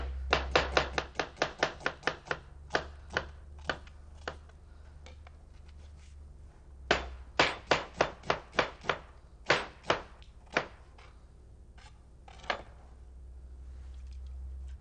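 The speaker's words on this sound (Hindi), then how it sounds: "थोड़ी लेमन ग्रास इसके साथ में प्याज चॉप करके इसके अंदर हम डालेंगे" A knife chops onion and lemongrass on a board in fast, crisp runs of cuts, then slower single strokes, over a steady low hum.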